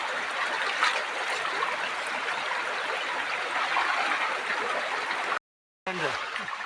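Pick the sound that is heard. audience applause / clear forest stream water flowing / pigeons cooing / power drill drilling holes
clear forest stream water flowing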